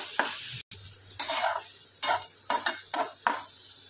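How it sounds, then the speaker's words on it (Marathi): Turmeric and chili masala are stirred in a pan for egg bhurji: a low sizzle under repeated rhythmic scraping strokes, about six distinct swipes, close and fairly loud. "मिक्स करून घ्यायचा आहे चांगलं असं।"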